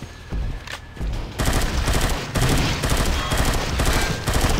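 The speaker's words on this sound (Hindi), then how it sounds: "अभी अभी दूर से फायर करता रहता हूँ" Rapid automatic gunfire from the zombie shooter game UNKILLED, played on a phone, rattles in dense bursts separated by short breaks, loud and close, with no voices over it.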